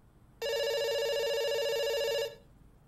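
Telephone ringing tone in a game, a single electronic ring lasting about two seconds, clear and steady, then cutting off into quiet.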